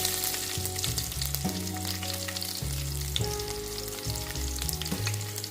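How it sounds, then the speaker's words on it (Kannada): Crushed garlic frying in hot tempering oil for a tomato sambar, a steady loud sizzle and crackle running throughout with no talk. "ಚಟಪಟ ಅಂದಮೇಲೆ ಅದಕ್ಕೆ ಜಜ್ಜಿರೋ ಬೆಳ್ಳುಳ್ಳಿ ಹಾಕಿ"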